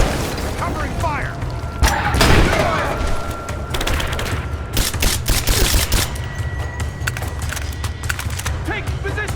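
Video game gunfire in the Siberian abandoned mines, with rapid bursts of shots and mechanical clatter laid over a dense roar of ambient noise, close and loud, while a voice calls out in the background.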